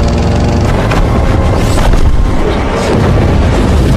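A thunderous explosion from the action film Furiosa roars as a dense, continuous blast of low rumble and crackling debris lasting several seconds, loud and unbroken.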